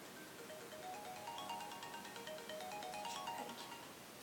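A phone ringtone plays a repeating melodic pattern just before a call is answered, steady and fairly close with no talking over it.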